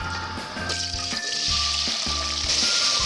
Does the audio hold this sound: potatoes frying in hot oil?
yes